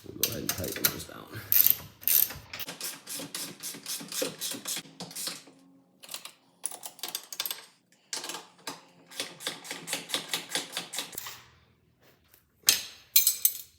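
A hand ratchet tightens 16 mm front differential bolts on a Polaris RZR Pro XP, rapid close clicking in bursts separated by short pauses, loud and alone without talk.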